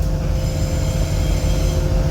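Constant low rumble of an airport rail-link train rolling along the rails to Adi Soemarmo Airport, heard from inside, with a steady drone and faint mechanical hum.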